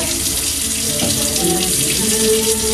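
Tap water runs steadily into a container of sourdough starter, a close, continuous splashing and gurgling stream with no voices.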